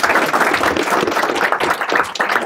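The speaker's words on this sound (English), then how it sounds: "Big round of applause for all of them." A crowd at a sheriff's office swearing-in ceremony applauds loudly and close, with dense clapping that rises and falls in brief surges throughout and no speech over it.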